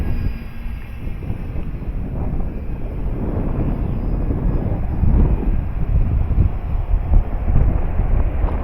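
A Dynam Waco RC model biplane flying in gusty wind, its motor a distant, wavering drone buried under heavy rumbling microphone wind buffeting that swells and surges throughout, with no talking.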